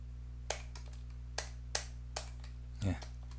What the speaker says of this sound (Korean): 이렇게 푸터라고 타이핑을 해주겠습니다